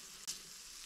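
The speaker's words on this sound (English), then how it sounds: "I'll go ahead and add another tablespoon of butter." Fish frying in butter in a pan, a steady close sizzle with one brief pop partway through.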